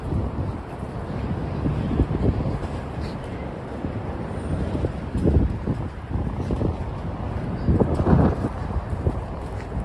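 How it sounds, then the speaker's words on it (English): Strong wind buffets the microphone in rough, uneven gusts on a street in Midtown Manhattan, New York City, a steady roar with a few louder bursts and no talking. "it's really windy right now"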